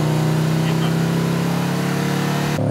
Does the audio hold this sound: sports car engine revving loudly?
yes